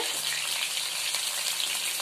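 Steady, loud sizzling of prawns frying in hot oil, a continuous crackling hiss close by.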